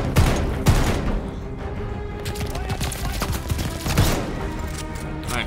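Rapid volleys of gunfire and sharp blasts ring out in the Call of Duty: Vanguard video game, with irregular shots and a few heavier booms under shouted voices.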